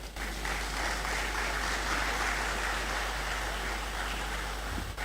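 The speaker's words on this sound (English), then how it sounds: "let's keep the applause going" Sustained crowd applause at a University of Ghana anti-drug campaign launch event, a dense, steady wash of clapping that fills the whole stretch at even loudness, with no voices over it.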